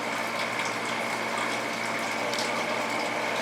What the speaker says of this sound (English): we are pumping water in